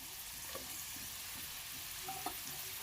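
Colocasia greens frying over a medium flame with turmeric, giving a steady, quiet sizzle and a couple of faint stirring touches, heard close but at low volume, with no voices.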